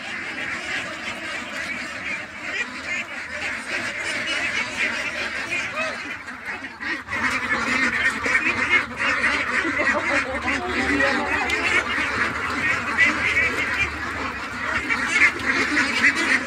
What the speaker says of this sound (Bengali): দেখো সব হাঁসগুলো কেমন জানি করছে, ধরতে দেবে না।